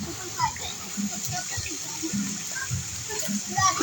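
Water swirling and splashing in a backyard pool as people push it into a circular current, a steady churning wash with scattered splashes, with voices talking and calling over it.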